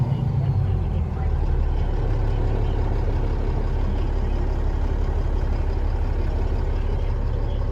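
A 2017 Kenworth T800 glider daycab with 326k miles idles and runs its diesel engine in a steady low rumble. The engine is close and constant, with faint talk over it.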